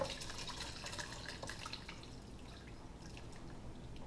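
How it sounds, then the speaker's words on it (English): Lemon juice drains off fish ceviche into a bowl, a faint trickle and scattered drips close by, with no voices. "we're just going to drain the lemon juice off it"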